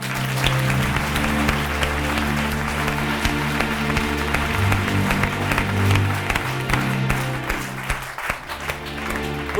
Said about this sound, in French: On applaudit bien fort notre créateur lumière, Monsieur Laurent.